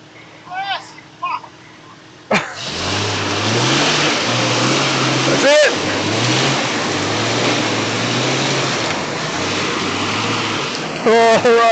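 A 4x4 stuck on a muddy hill in the Brindabella Ranges, its mid-pitched engine revving hard and steady while reversing, with shouted voices before and near the end.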